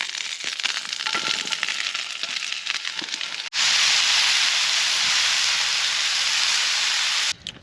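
Mushrooms and asparagus cooking in a pan on a camping stove on a frozen solo camp in the Brecon Beacons, heard as a loud, steady hissing sizzle that shifts and intensifies partway through before cutting off near the end.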